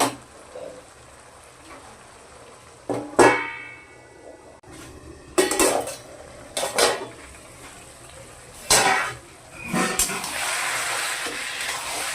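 A lid goes onto a pot of taro greens cooked with a hilsa fish head, giving several sharp metallic clangs and clanks spread out over quiet kitchen background, with no talk.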